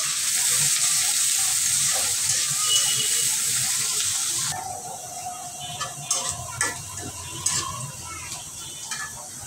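Chopped garlic and onion hit hot oil with dried red chillies, a loud hiss that soon settles into a quieter sizzle with scattered clinks of a utensil against the pan.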